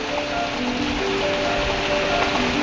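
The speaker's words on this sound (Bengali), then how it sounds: "বেশ জোরে পড়ছে বৃষ্টিটা" Heavy rain pours down in a steady, loud, unbroken hiss on surfaces close by, with no voices.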